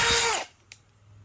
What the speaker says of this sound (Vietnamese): Rồi mình tắt cái chế độ đó trở thành cái khoan bình thường